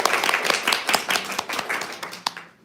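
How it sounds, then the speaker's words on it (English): An audience bursts into steady applause at a fireside chat event, many hands clapping together in a dense, lively patter that carries on for a couple of seconds before thinning out. "Can you all give a round of applause for"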